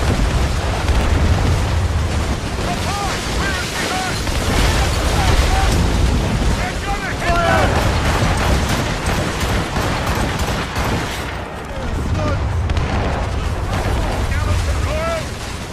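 Naval battle in Assassin's Creed Rogue with ship cannons firing and shots hitting, a steady roar of booms, crashes and bursts over sea and wind, with shouted voices of the crew breaking through now and then.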